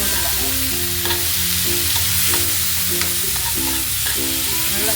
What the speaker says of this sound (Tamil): நல்லா போட்டு நல்லா வதக்கிடலாம்.